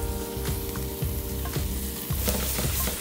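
Potatoes with lightly crushed garlic fry in a pan, a dense, loud sizzle with rhythmic stirring scrapes and knocks, close up and continuous.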